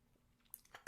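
A single sharp cough bursts out close and loud at the very end, preceded by a few faint throat noises and small mouth sounds in an otherwise quiet room.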